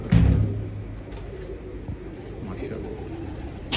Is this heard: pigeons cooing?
yes